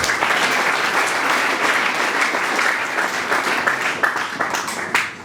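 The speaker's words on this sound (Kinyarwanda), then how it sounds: "mufashe dukoma amashyi tubashimire" Loud, sustained applause from an audience at a school ceremony honoring students, dense and steady throughout, with a few sharper claps standing out near the end.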